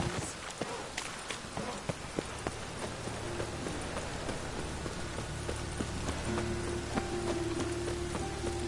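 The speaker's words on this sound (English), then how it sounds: "It just rains and rains." Steady rain falls in The Witcher 3, a constant wash of patter under faint scattered clicks and hoof-like taps, with a low hum and a thin tone entering toward the end.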